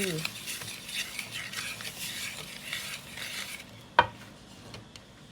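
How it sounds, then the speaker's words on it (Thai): Banana cake batter for a chiffon roll being slowly stirred in a bowl, a soft continuous scraping swirl with faint utensil taps and one sharper clink near the end. "ค่อยๆคนนะคะจนส่วนผสมเข้ากันดี"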